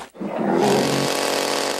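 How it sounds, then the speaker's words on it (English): A chainsaw revs to a loud, steady roar in a Simpsons cartoon scene with a grizzly bear running the saw, the engine catching after a brief pause and then droning on. "A grizzly bear with a chainsaw."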